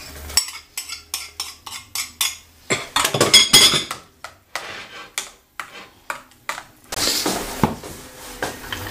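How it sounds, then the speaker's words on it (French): Cream, onions and bacon being stirred in a pan for a carrot terrine with bacon and ham: a spoon clinks and scrapes against the pan in irregular taps and short scrapes, fairly close, with no talk. "On va remuer un peu"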